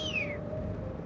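A kite gives one high, meow-like call that slides downward and fades, followed by a faint steady tone over a low, rumbling background hum.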